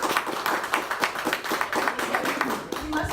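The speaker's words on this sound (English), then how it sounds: "Let's give a round of applause for Miss Leanne Foster." An audience applauds a guest speaker at a talk, a dense patter of many hands clapping continuously at moderate loudness for a few seconds.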